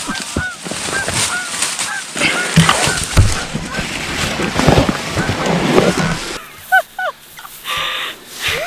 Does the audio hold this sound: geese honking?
yes